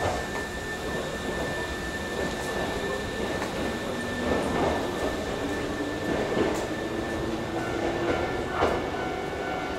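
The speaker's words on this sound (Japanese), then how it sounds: "まもなく5号線に京都河原町方面へ向かう電車が到着します。" A Hankyu 5300 series train arrives at a platform of Juso station, with a steady loud rumble of wheels and motors, a faint high whine, and a few squeals and knocks rising toward the end.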